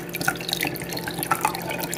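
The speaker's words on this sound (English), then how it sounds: "I'm also going to be pouring my Mauby right over top of this now at this point" Homemade Mauby drink poured into a glass, giving a close, steady trickle with small splashes and drips over two seconds.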